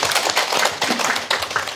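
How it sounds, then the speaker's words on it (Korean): Short burst of audience clapping at a performance report meeting, brisk and close, with several distinct loud claps standing out in the dense patter. "박수 한번 드릴게요"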